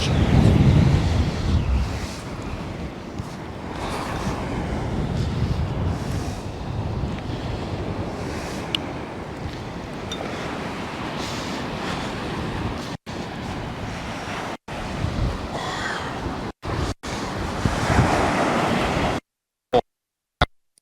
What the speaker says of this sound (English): Heck off, wind.